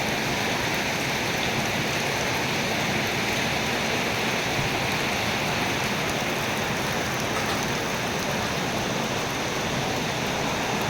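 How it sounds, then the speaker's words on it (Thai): Steady rain pours down in a constant, dense hiss that stays even throughout, with no voices. "ตอนนี้อากาศก็เย็นแล้วนะครับผมฝนตก"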